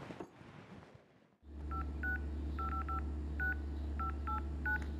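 A series of phone dialing tones beeps out one key at a time at an uneven pace over a steady low hum indoors, with a brief stretch of quieter background sound before the tones start.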